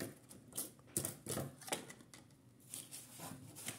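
Paper being folded and creased by hand while assembling a gift box, with soft crackling presses and short papery scrapes in uneven bursts, close and fairly quiet, with no talking.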